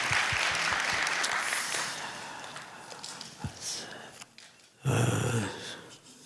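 Church congregation at a New Year's Eve worship service claps in welcome, a broad wash of applause that tapers off gradually, then swells again in a second loud burst before fading.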